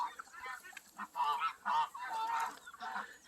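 A young duck, still in its baby feathers, gives a run of loud, close honking calls in uneven bursts, one after another.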